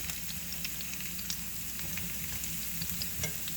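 Potatoes fry in a pan for fondant potatoes, a steady close sizzle with faint crackles and occasional light knocks as the pieces are moved about.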